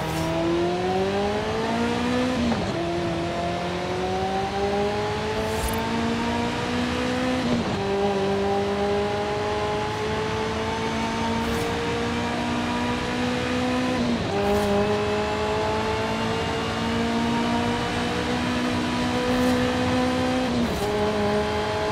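A high-revving Ferrari F40 Competizione engine in Forza Horizon 5 drones steadily, its pitch climbing through each gear and dropping sharply at every shift, loud and continuous.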